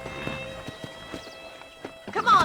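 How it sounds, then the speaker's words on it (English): Hooves clip-clop steadily from a horse in Red Dead Redemption: Undead Nightmare, moving at a quick pace over background game ambience, with a brief whinny-like rise at the end. "I picked out a fine horse for you."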